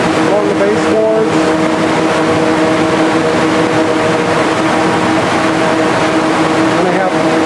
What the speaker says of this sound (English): We have fans blowing along the wallboard area, along the baseboards.